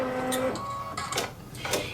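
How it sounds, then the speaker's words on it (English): Embroidery sewing machine beginning to stitch out a quilting design, with rapid mechanical clatter and short whirring bursts, close and moderately loud, no talking. "And it's going to stitch out the first quarter of your design."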